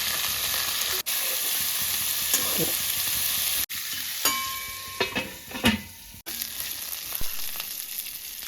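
Jackfruit pieces fry with turmeric and salt in a pan, a steady close sizzle running throughout, broken by a few sharp scraping stirs and brief clinks partway through.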